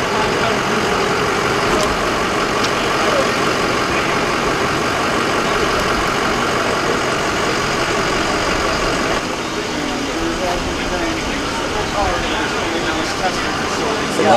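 A white truck's engine idles steadily and loudly at close range outdoors at a drive-thru testing site, a constant unbroken rumble with no talk over it.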